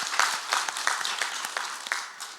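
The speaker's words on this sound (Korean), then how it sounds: "우리 감사하고 축복하는 박수를 하겠습니다." A church congregation applauding during a Sunday service: a soft, scattered patter of clapping from a moderately sized group, fairly close and steady, fading slightly at the end.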